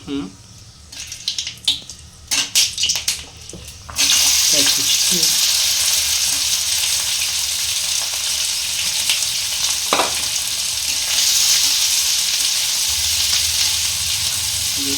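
Whole spices (cinnamon, cloves and a cracked cardamom pod) hit hot oil for tempering in a snail curry, giving a steady loud sizzle after a few knocks and clatters at the start, with occasional voices in the kitchen.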